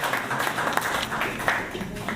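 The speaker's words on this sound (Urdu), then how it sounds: "بہت سی تالیاں یار" An audience at an Urdu poetry recital gives moderate, continuous applause, a soft mass of clapping heard from a distance with a few sharper claps standing out.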